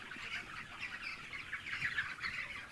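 Free-range chickens about 37 to 38 days old clucking inside a coop on a poultry farm, a faint, busy chatter of overlapping clucks and calls from the flock.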